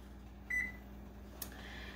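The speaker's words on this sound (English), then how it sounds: "set a little timer here so I don't forget." A kitchen timer sounds two short electronic beeps about a second apart while a pot simmers, faint and close against a low steady hum.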